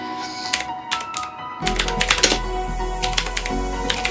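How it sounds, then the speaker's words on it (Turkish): Clattery keystrokes on a new mechanical keyboard, typed in quick irregular bursts close to the mic, with a steady low hum underneath. "yeni mouse aldığım için klavyeden biraz mekanik olduğu için ses geliyor olabilir"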